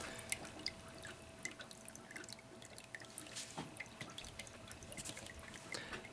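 Distilled water drains from a PC water-cooling loop, fitted with an EVGA GTX 980 HydroCopper card, into a bucket, a steady close trickle scattered with small irregular drips and splashes throughout.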